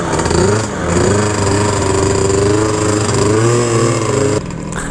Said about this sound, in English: Yups. Bike's running back.